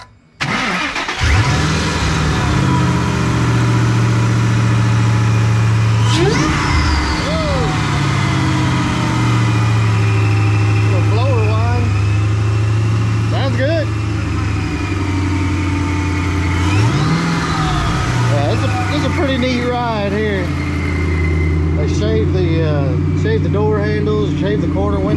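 A supercharged Ford Fox Body Mustang engine runs close by for the whole stretch, a steady deep drone with a few revs rising and falling, while people talk over it throughout.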